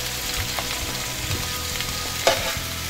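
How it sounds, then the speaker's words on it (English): Sliced onion sautés in olive oil in a home kitchen, giving a continuous close sizzle with brief stirring scrapes and one sharper clink partway through, with no voices. "Now we're going to cook some onion."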